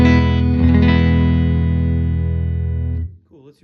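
A sustained, bass-heavy guitar chord rings out through a 1974 Fender Super Six Reverb amp with six 10-inch speakers, holding for about three seconds before cutting off abruptly, followed by a faint voice.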